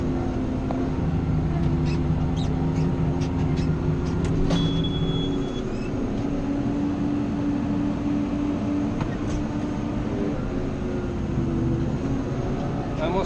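A Ford TM165 tractor engine runs in a steady, continuous drone with a low humming tone throughout, a voice talking faintly over it.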